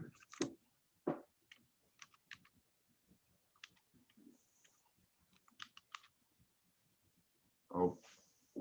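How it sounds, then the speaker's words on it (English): Computer keyboard typing, sparse clicks and short bursts of keystrokes, quiet and close, with a few louder knocks and brief murmured talk in between. "typing on the wrong keyboard"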